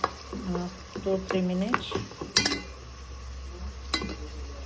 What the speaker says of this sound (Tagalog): Hilain hanggang mag-melt yung kamatis.